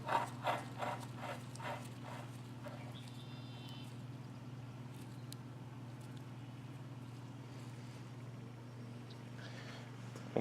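Screws being driven back into a wooden anti-ant beehive stand: a quick run of rhythmic ratcheting clicks for the first few seconds, then a steady low mechanical hum with only faint scattered ticks.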